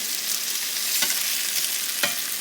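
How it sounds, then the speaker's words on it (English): Turkey burgers sizzle steadily in a hot pan, a constant frying hiss broken by two short scraping clinks as they are lifted out. "I'm going to go ahead and remove these from the pan"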